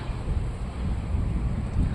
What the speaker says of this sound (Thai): โอ้ยหนาวลมหนาวอากาศดีนะเนี่ย